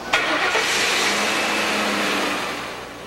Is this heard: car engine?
yes